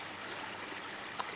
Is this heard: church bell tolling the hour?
no